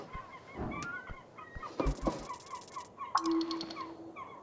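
Honking calls from a giant bird in the video game Esoteric Ebb, a few loud nasal honks rising over a quiet game ambience with small clicks, no talking.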